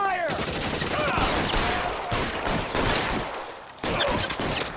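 Sustained gunfire from a shootout in the video game L.A. Noire, with dense rapid shots and bursts. It runs loud and continuous throughout, with a brief lull near the end before the firing resumes.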